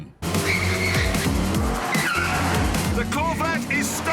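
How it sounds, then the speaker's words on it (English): An original Mini skids through a handbrake turn, its tires squealing loudly over a revving small engine, while other car engines rise and fall nearby and someone talks over the noise. "Dab of the handbrake, and there we go."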